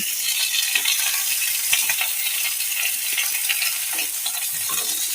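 Doddapatre leaves fry in a pan with a constant bright sizzle, broken by light scraping and clinks of a spoon stirring against the metal, close and fairly loud, with no voices.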